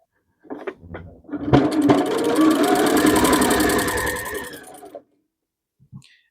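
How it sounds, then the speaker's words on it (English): Sewing machine running a seam along a folded fabric edge, starting with a few short taps, then a steady close whir for about three seconds before stopping, with a brief soft click after. "I'm going to sew along this fold here"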